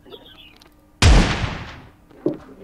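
A single loud gunshot from a barrel gun in the video game PUBG, a sharp blast with a decaying tail, followed by a fainter second report about a second later.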